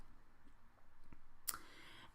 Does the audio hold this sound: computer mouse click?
yes